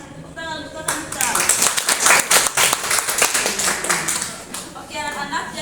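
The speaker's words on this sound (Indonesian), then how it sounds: "tepuk tangan untuk kita" A primary school class in an Indonesian-language lesson breaks into brisk hand clapping that swells, holds for several seconds, then fades, with a teacher's voice briefly before and after.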